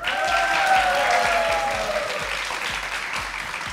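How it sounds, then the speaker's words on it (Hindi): A studio audience applauds a daughter-in-law at a cooking show, a steady wash of clapping under a faint high tone, fairly loud and continuous, with no talking. "तालियां बहू के लिए।"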